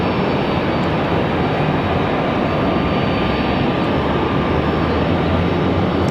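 An Aer Lingus Airbus A321 jet departing Raleigh-Durham for Dublin gives off a steady, broad roar of engine noise at moderate loudness, unbroken and without voices.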